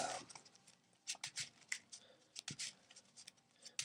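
Yu-Gi-Oh card deck being shuffled by hand, a quiet close run of rapid papery riffles and slaps in uneven bursts.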